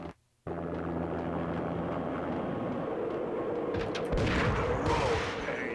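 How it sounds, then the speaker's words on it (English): An armed helicopter lands on manor grounds in the Max Payne video game amid gunfire: a dense, steady mechanical roar with a low droning hum, swelling near the end into louder bursts of sharp crackling shots, with no talking. "An armed helicopter just landed on the manor grounds."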